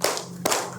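Two quick hand claps, part of the Tepuk Islam clapping chant, land about half a second apart. Each is close and sharp, with quiet between them.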